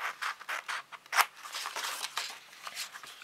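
Scissors snip through fabric for a small backpack, a run of crisp, quick cuts and scratchy rubs close up, fairly quiet, with no voices.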